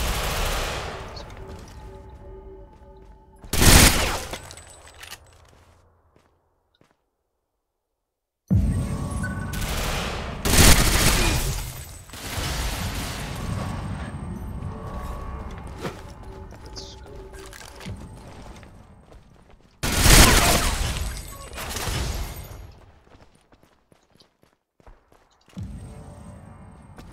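Video game gunfire on the Tomsk map during recon play: loud rapid bursts and volleys near 4, 9 to 12 and 20 seconds, separated by quieter stretches and a brief near silence.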